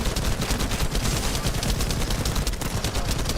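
Rapid gunfire fills a battle against a boss in The First Descendant, a dense, steady stream of shots at a constant close level with no pauses, and no voices over it.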